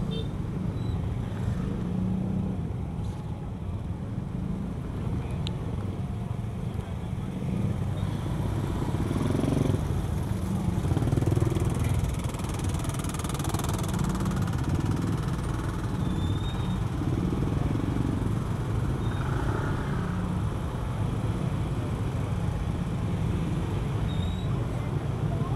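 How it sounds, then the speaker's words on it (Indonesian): Dense Saturday-night traffic jam in Kuta, Bali, with motorcycles and cars idling and creeping along in a steady, continuous rumble throughout, while voices and crowd murmur mix in. "Tuh macet."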